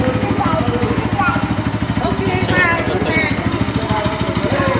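A motorcycle engine idles close by before a 300-kilometre ride to the Pal Khandoba yatra, giving a steady, rapid low thumping throughout with faint voices over it.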